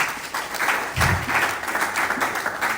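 An indoor audience at a sales bootcamp applauds in a short burst of steady, many-handed clapping that stays moderately loud and even throughout.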